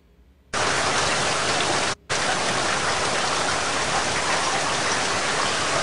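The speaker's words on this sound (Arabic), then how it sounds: "الصوت تاع الشتا زوين" Steady, loud rain hiss fills the track as a recorded rain sound effect, starting abruptly after a quiet moment and cutting out briefly before resuming, with no talk.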